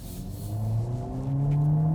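A Mercedes CLA Hybrid engine pulls out of a hairpin turn, its note rising steadily in pitch as the car accelerates, heard close and fairly loud from inside the cabin with no talk.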